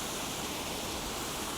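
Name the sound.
water gushing through a canal lock on Leeds Liverpool Canal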